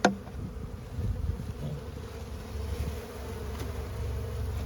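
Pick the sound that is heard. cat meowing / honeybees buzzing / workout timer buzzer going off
honeybees buzzing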